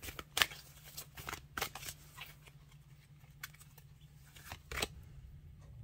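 Tarot cards are handled and pulled from a deck during a reading, with several quick, soft shuffling swishes and flicks scattered through otherwise quiet room tone.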